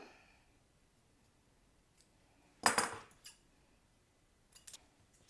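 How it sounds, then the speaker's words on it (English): A few short, crisp snips of scissors cutting cardstock for a paper pumpkin card craft, faint and isolated in a quiet room, one stronger cut followed by lighter clicks. "I'm going to go ahead and cut that off. And I'm going to cut another one because it's going to go at the bottom."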